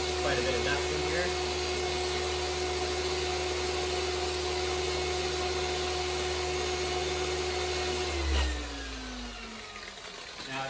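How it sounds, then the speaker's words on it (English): A car polishing pad for paint correction on an AE86 is spun to brush out dust, giving a loud, steady machine whine and hum close by that winds down near the end. "I'm gonna brush this pad out because I haven't used it in a bit just to get any dirt out."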